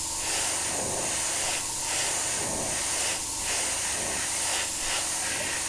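Spray paint hissing onto the body of a Tamiya Volvo FH12 1/14 scale RC truck kit, a close, steady spray with slight pulses as the nozzle moves, heard alone without talk.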